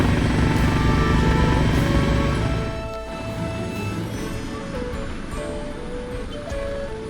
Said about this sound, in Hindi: हेलीकॉप्टर राइड ले रहे हैं हम प्रयागराज महाकुंभ में।